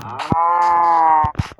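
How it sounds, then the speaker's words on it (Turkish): A cow in the video game Minecraft gives one long, loud, close moo with a steady drawn-out tone, framed by brief thumps before and after. "Bakayım inek bu."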